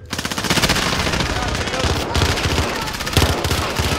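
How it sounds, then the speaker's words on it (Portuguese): Sustained rapid machine-gun fire in Call of Duty: Warzone rattles loud and close in dense, continuous bursts. A teammate's voice is faintly mixed in underneath. "Eu atirei que nem maluco aqui."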